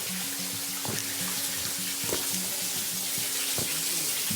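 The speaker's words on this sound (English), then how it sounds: "We got a waterfall coming down the steps we're going down." Waterfall flowing down trail steps on a hike, a steady broad rush of water close by, with an intermittent low hum underneath and a few sharp clicks.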